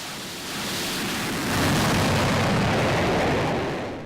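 A loud EA-18G Growler military jet passes over the Olympic Peninsula as a broad, rushing roar that swells and holds at full strength, then begins to ease off. No voices are heard.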